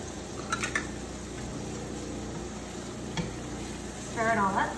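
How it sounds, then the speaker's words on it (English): Lobster with Italian seasoning sizzles steadily in a pan while it is stirred, with faint scraping and a louder bubbling crackle near the end. "Stir it all up."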